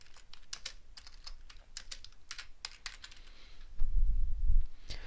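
Rapid bursts of close keystrokes on a computer keyboard, uneven clicks in short runs with a brief low thump near the end, no talking.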